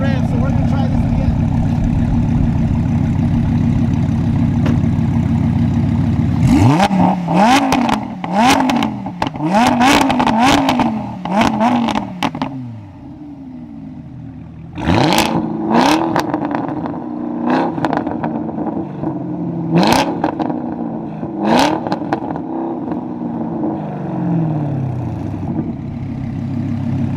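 Chevy Camaro ZL1 1LE and Lamborghini Huracan engines revving in a rev battle, loud repeated sharp throttle blips rising and falling over a steady idle drone, in two bursts with a short lull between.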